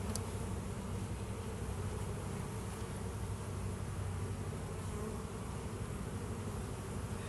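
Honey bees buzzing steadily and closely throughout a hive inspection, a dense continuous hum with no voices over it.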